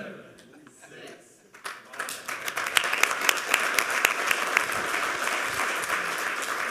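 Conference audience after a lightning talk breaks into dense, steady applause that starts after a quiet moment and holds at full volume to the end, with a voice faintly underneath at the start.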